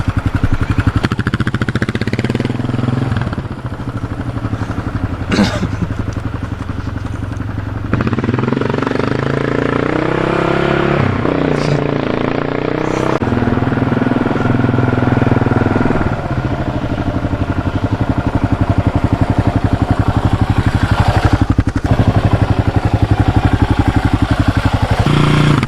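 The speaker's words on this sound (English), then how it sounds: "You guys see that gnarly wheelie?" A Kawasaki KLR650 motorcycle engine roars loud and close while the bike pulls a wheelie, rising and falling in revs with a rough, clattering tone throughout.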